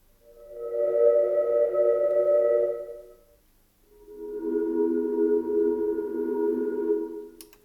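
Two long, sustained synth tones from a multiband resonator patch on a Gotharman's Tuul, ringing, resonant timbre, each held a few seconds, separated by a brief silence.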